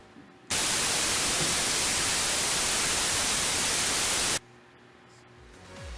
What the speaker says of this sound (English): this is just random white noise